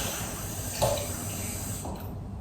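Water runs steadily from a kitchen tap while pony treats are being baked, a soft, continuous hiss that is fairly faint and close, with no talking.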